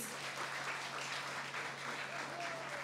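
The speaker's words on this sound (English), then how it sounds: "please, a round of applause again to the two teams" A debate audience applauds the two competing teams with steady, sustained clapping at moderate volume that fills the hall throughout.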